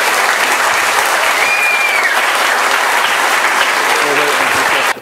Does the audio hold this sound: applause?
yes